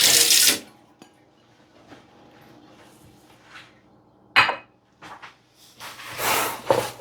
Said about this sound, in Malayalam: ജസ്റ്റ് പാത്രം ഒന്ന് വാഷ് ചെയ്തെടുക്കാം.